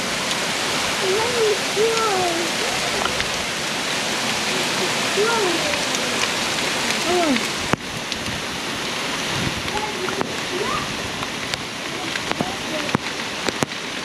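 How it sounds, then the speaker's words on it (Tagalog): Heavy rain pours steadily in a dense, constant hiss close by, with scattered sharp drips and clicks, while voices murmur faintly in the background. "Ang lakas ng ulan."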